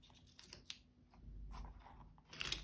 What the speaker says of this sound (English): So now I'm going to remove my tape.